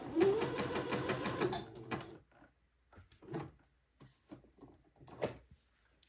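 A sewing machine zigzags lace onto a baby daydress, a close mechanical whir for about two seconds that stops, followed by sparse quiet knocks and handling clicks.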